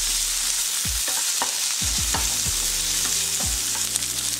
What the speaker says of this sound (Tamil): இது எல்லாமே நெய்யில் கொஞ்ச நேரம் வதங்கட்டும்.